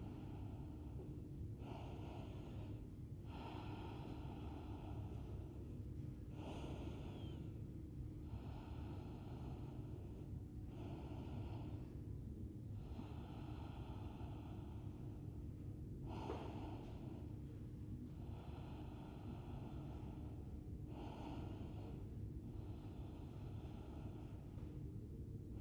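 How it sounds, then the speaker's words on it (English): Calm, steady breathing during a yoga session, about a dozen slow, even breaths, each a soft airy rush at regular intervals, close to the microphone over a low background rumble. "Calm, steady breathing."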